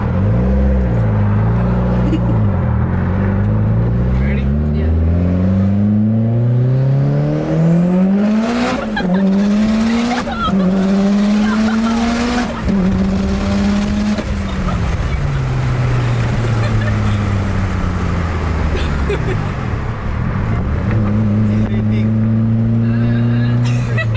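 A DSM/Evo car with a five-speed manual accelerates hard through several gears, its engine note rising and dropping with each shift and the tires squealing, loud and close from inside the cabin, with brief talk.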